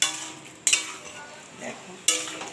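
Pointed gourd stirred and fried in a pan, two sharp scraping clatters of a utensil against the metal pan over a soft background sizzle, close by and with no talking.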